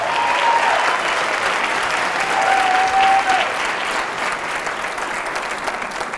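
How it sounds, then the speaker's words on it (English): An audience applauds steadily, a dense wash of clapping that holds at a fairly even level throughout. "Would you give her a rowdy applause?"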